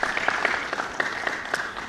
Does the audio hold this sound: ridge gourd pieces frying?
no